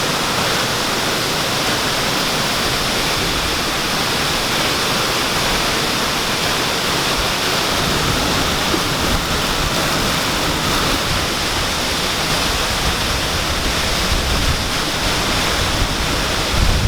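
Bang Pae waterfall in Phuket, Thailand, a steady, dense rush of falling water heard up close, loud and unbroken throughout, with no voices.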